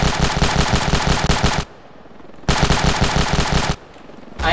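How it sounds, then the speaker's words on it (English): Rapid automatic machine gun bursts hip-fired in the video game Ravenfield, two loud sustained strings of shots separated by a short pause, then a third burst starting at the end. "I am better at hip firing than actually aiming."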